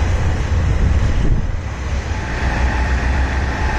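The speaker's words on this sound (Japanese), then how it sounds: "そして列車がやってまいりました。" A train pulls into Tokushima station on a Shikoku line, heard as a loud low rumble of wheels and rolling stock close to the platform, with broad windy noise and no talk.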